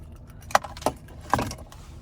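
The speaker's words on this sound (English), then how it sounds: "here's our key fob." Keys on a 2021 Genesis G90 key fob give three light, close metallic jingles and clicks over about a second, faint against a quiet background.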